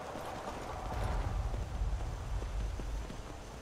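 Horse hooves clip-clop steadily in the Skyrim video game, a close, rhythmic plodding of hoofbeats under a low ambient bed with no voices.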